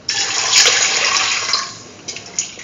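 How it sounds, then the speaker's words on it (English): A short splashy pour of about 200 ml of water into a pressure cooker with a spiced chickpea and yogurt rice mixture, loud and close, then trailing off into a few small drips and clinks. "pour in 200 ml of water"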